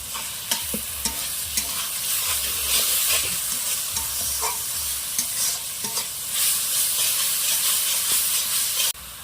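Spice paste for prawn malai curry frying in oil as it is stirred, with a steady bright sizzle and hiss broken by repeated scraping taps of the spoon, close and with no talking.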